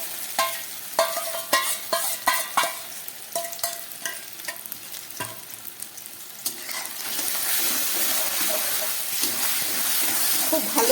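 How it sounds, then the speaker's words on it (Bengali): Cauliflower frying in white oil in a wok, loud crackling pops and spatula stirring clatters at first, then settling into a dense, steady hiss of sizzling oil. "খুব ভালো করে আমি ফুলকপিটাকে ভেজে নেব।"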